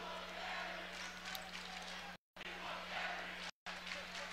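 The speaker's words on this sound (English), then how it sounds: "You hear the crowd chanting" Crowd at a college basketball game between Rider and Iona chanting for a walk-on player, a steady broad roar of many voices filling the arena, continuous and fairly loud apart from two brief cuts to silence.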